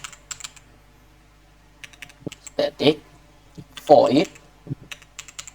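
Typing Java code on a computer keyboard, with scattered key clicks and short bursts of keystrokes mixed with a voice speaking throughout.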